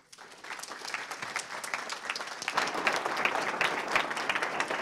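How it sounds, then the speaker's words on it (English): A garden forum audience claps steadily to welcome a speaker, the applause swelling a little louder midway and continuing without pause. "I don't like the applause before I do a presentation"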